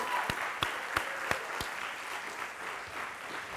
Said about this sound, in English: So a big round of applause for Rosa there.